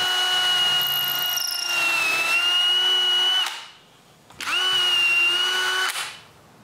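Drill press boring pilot holes in wood for a staircase gate, two loud sustained whines of about three seconds each with a short quiet gap between, steady motor tone dipping slightly as the bit bites.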